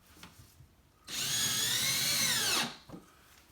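A power drill drives a narrow-threaded drywall screw into a wall stud, one loud whirring burst of about a second and a half that rises and winds down, with quiet handling noise before and after.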